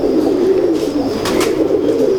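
A prized pigeon coos loudly and close, a rolling throaty call sustained through the moment with no voices.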